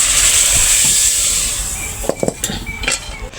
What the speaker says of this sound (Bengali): আমি পেঁয়াজটা আর রসুনটা ভেজে এর মধ্যে ডাল বাগার দিয়ে দিচ্ছি।